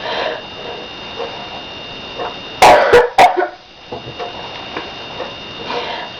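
A person with hiccups sucks in air and forces out a few sharp, loud coughs in a quick cluster, close to the microphone, followed by quiet room noise.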